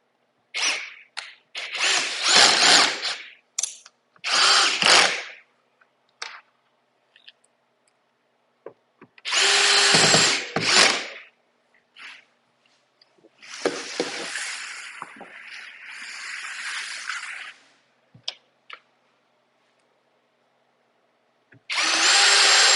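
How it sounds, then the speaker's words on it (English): A power drill whirs in repeated short bursts driving screws into a birch wall cabinet, spinning up and stopping with pauses between, close by and loud. "you can use your drill on these"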